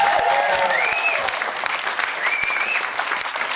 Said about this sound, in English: we give you a most welcome applause